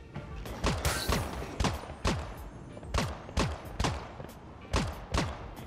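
Repeated shots from a scoped gun in a cheap Fortnite-style video game, about ten sharp cracks fired at a steady, slightly uneven pace, each with a short decaying tail, loud and close with no talking.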